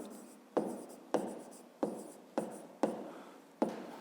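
Pen writing on paper during a fifth-grade math exercise, six short scratchy strokes in a steady rhythm, each starting with a tap and fading, close and quiet.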